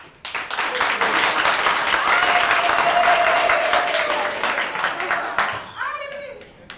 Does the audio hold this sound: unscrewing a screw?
no